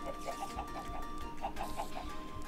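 A string of soft, rhythmic clucks from chickens in Minecraft, fairly faint over a constant background hum, with about ten short calls in quick succession.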